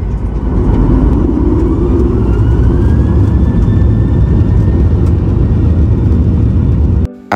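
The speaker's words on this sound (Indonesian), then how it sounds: "akhirnya pesawat Batik Air tujuan Jakarta Kuala Lumpur ini berhasil lepas landas dengan sempurna dari Bandara Soekarno-Hatta" Inside the cabin of a Batik Air airliner bound from Jakarta to Kuala Lumpur, the engines roar loud and steady through the takeoff roll and climb out of Soekarno-Hatta Airport. A faint rising whine runs underneath, and the sound cuts off abruptly at the end.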